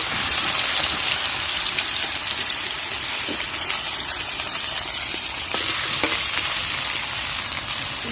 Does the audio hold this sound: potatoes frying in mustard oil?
yes